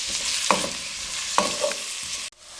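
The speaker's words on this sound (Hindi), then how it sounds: "प्याजों को मीडियम फ्लेम पे 3 से 4 मिनट के लिए हल्का गुलाबी कर लेंगे।" Sliced onions frying in cooking oil on a medium flame, a dense close sizzle punctuated by a few spoon taps and stirring scrapes, ending in a brief drop-out.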